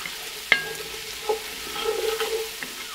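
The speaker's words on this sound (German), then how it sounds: "auch die braten wir jetzt noch mal schön mit an" Onions and carrots fry gently in a pan while being stirred, a soft sizzle with a sharp utensil tap and light scraping, fairly quiet and without talk.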